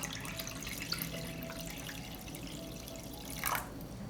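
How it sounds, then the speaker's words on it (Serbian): Water poured into a pot holding glass jars on a cloth, filled to just above half the jars' height: a steady, quiet splashing stream heard close, with a brief stronger gush near the end. "Sipam vodu u šerpu."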